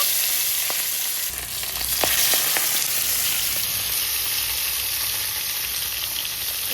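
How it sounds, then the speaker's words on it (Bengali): Fish pieces, chital among them, frying in hot oil in a pan, giving a steady, close, loud sizzle with faint clinks and stirring, no voices. "এই যে মাছগুলো এখন ভেজে নেব।"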